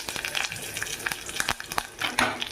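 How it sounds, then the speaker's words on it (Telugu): Mustard seeds crackle and sizzle in hot oil in a pan, a close, steady frying hiss broken by small sharp pops and a few stirring scrapes. "ఆవాలు కూడా వేసుకున్నాను. వేసుకొని బాగా ఎర్రగా వేగనిద్దాము. ఇదిగో ఎర్రగా వేగుతున్నాయి."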